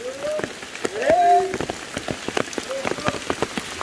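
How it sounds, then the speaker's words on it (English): Rain patters steadily on a surface, with individual drops tapping sharply throughout and a few faint voices and whistling tones under it. "Hey! Rain!"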